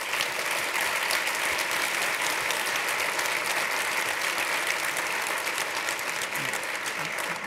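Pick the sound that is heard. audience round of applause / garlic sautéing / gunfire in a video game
audience round of applause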